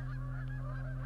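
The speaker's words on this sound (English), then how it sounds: "A sound for a goose is honk." A goose honks loudly and close up, a single sustained nasal call lasting about a second, heard alone.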